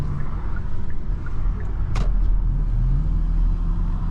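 A 2020 Kia Sportage SX driving on after a U-turn, with a steady low engine and road rumble heard from inside the cabin, plus a brief whoosh midway through.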